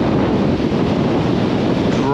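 Surf washing in at Southbourne Beach, Dorset, a continuous loud rush muddied by wind buffeting the microphone, with nobody speaking.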